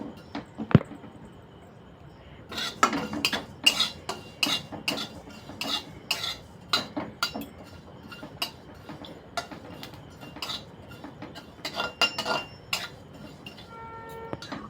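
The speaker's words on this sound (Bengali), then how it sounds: "জিরে এবং মৌরিটাকে হালকা গরম করে নেব গুঁড়ো করার জন্য" Cumin and fennel seeds are dry roasted in a pan in a village kitchen, with light scraping and clinking of a spoon against the metal in scattered taps and short bursts, close and fairly quiet, with no talking.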